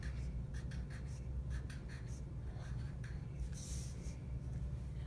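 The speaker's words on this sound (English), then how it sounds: "you want to write your name at the very top of your paper" A pencil writes a name on paper, with faint, intermittent scratchy strokes in short bursts over a low steady hum of room noise.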